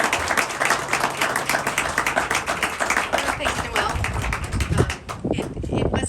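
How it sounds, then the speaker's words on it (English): Sustained crowd applause at a building dedication ceremony honoring Dr. Gesu Pinnell, dense steady clapping filling the room for about five seconds before thinning, with some voices mixed in at the end. "thank her with a big round of applause"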